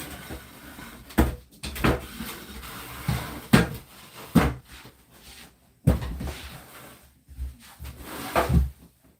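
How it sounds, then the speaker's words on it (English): An old chair creaks repeatedly during a livestream, with intermittent sharp cracks and groaning strains spread across several seconds in a quiet room, some louder and some softer as the sitter shifts. "I got the creaky chair again"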